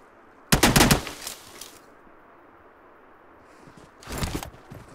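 Two short bursts of rapid automatic gunfire in a ranked online shooter match, the first close and loud, the second a bit softer, separated by a quiet stretch.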